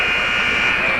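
A basketball game buzzer sounds at the end of a quarter in a high school girls' game, a loud steady electronic tone held for the whole second with faint crowd noise beneath.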